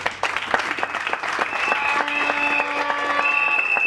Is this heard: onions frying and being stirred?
no